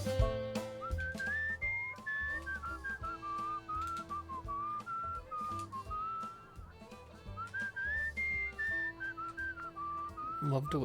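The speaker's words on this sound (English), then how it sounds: "Love to whistle." A game character in Where the Water Tastes Like Wine whistles a continuous wandering melody over steady guitar-and-bass music, the tune rising and falling in clear sustained notes throughout.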